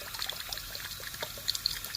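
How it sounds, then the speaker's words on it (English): High pressure steam boiler injector running on a homemade boiler: a quiet, continuous watery trickling and hiss with small irregular ticks, faint and steady, no talk. "Just so you can hear what the actual injector sounds like."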